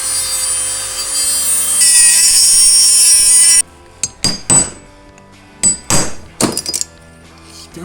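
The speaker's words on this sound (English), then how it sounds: "Probably just use a Dremel and cut it off and split it and then peel it off." A Dremel rotary tool cuts into a wheel bearing race on a 2003 Pontiac Vibe GT with a loud, high-pitched continuous grinding whine. It cuts out abruptly, followed by several sharp metallic knocks and clatters.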